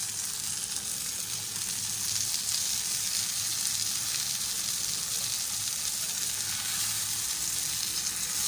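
Bajra roti fries on a griddle with butter, giving a steady, broad hiss that holds at an even, moderate level throughout, close by and undisturbed.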